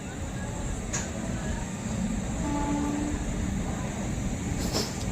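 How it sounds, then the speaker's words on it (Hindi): An Amrit Bharat Express train pulls out of Sultanpur Junction with a steady low rumble of wheels and carriages, heard from on board, with a faint tone and short clanks near the end. "सिग्नल हो चुका अपना सुल्तानपुर जंक्शन से, अपने लोको पायलट सिग्नल दिखा रहे हैं और ट्रेन निकल चुकी है अपनी सुल्तानपुर जंक्शन से।"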